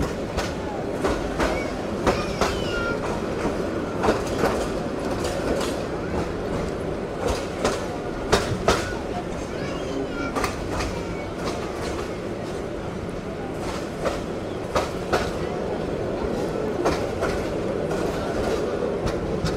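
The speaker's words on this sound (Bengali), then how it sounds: "আমাদের ট্রেন জার্নি কেন স্লো হয়ে গেল, খুবই ধীর গতিতে রাজেন্দ্রপুরে প্রবেশ করতেছে" The Mohanganj Express from Dhaka rolls slowly through Rajendrapur, a steady rumble from inside the carriage broken by repeated clickety-clack wheel knocks at uneven intervals, with faint voices in the background.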